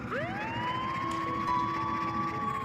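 A wailing emergency siren, probably an ambulance at a railway crossing accident, rises and holds a steady tone over low background rumble, clear and moderately close for the whole stretch.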